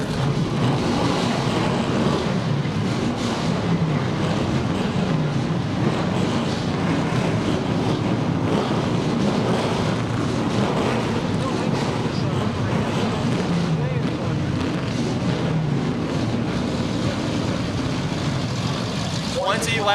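Street stock race cars at the Motordrome Speedway fire up and run together, a loud, dense, unbroken engine roar that stays at full strength from start to end.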